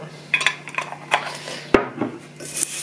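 Cornflakes are stirred in a mixing bowl, giving dry crunchy rustles and scrapes with a few sharp clinks of utensil on bowl, close by and with no talking.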